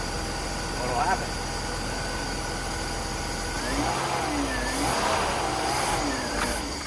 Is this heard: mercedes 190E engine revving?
yes